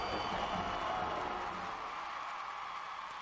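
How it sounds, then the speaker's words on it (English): A football stadium crowd roars in steady broadband cheering after a touchdown by Nebraska's opponent, loud at first and easing slightly, with no clear single voices. "and the crowd goes wild"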